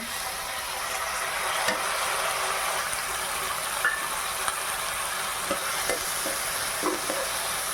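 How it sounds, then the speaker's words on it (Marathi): Toor dal being sautéed with onion in a pan for a cowpea-leaf bhaji, giving a steady, close frying sizzle with faint stirring scrapes and no talk. "आता मी टाकून घेते तुरीची डाळ"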